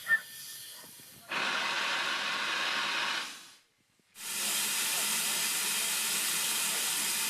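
A steam train in Sardinia gives off a loud, steady hiss of escaping steam that cuts out briefly, then bursts back on just as strongly and keeps going.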